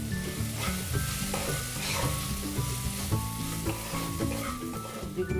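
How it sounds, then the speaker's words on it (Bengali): Chopped vegetables, green chili and capsicum frying in a pan on low heat, giving a steady, soft sizzle with stirring scrapes; faint tonal background sound runs underneath throughout. "আঁচটা কম রেখেছি, 3 মিনিট ভেজে নেব।"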